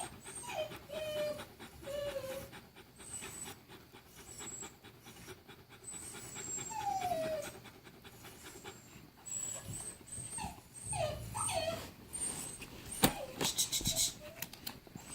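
A dog whimpers and pants while its matted coat is raked out, with high, thin whines rising and falling over steady panting, close and moderately loud, plus rustling and handling noises and a person speaking softly.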